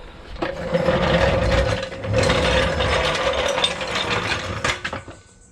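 A smooth, steady rolling rumble with a faint mechanical whir as a Daytona 3-ton low-profile floor jack's wheels move across a floor, close by, fading out at the end.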